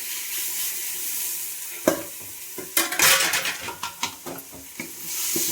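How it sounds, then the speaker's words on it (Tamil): Onions with tomatoes going in, sautéing in a pan for biryani: a steady close sizzle with scraping stirs and spoon clacks against the pan, several sharp knocks clustered in the middle, no talking. "நல்லா வதக்கிட்டு அதுக்கப்புறம் நம்ம தக்காளி போட்டுக்கலாம்."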